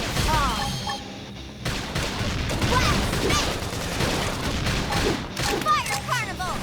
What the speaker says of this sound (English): Open fire! Now!